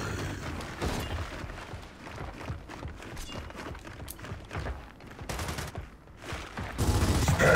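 Rapid bursts of gunfire from the video game Gears of War 4, dense overlapping shots forming a steady barrage at fairly close range, with no talk over them.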